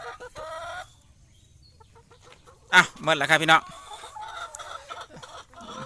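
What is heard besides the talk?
chickens clucking in a laying-hen coop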